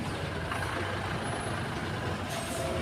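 A truck near the JSW Navkar logistics yard pulls away after blocking the road, its close, loud engine rumble mixing with air-brake hiss in a steady roar, with no voices.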